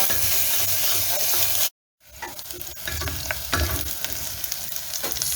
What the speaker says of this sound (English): when you're frying your onion is to keep on low